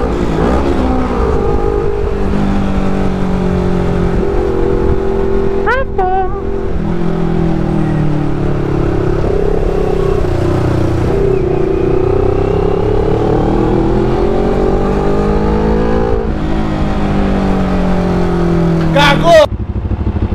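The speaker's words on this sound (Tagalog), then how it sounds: "Rev bomb." A CFMoto NK400 motorcycle with a clutch issue, its engine running loud and close as it revs and climbs through gears, the pitch rising and falling in long sweeps, with voices talking over it now and then.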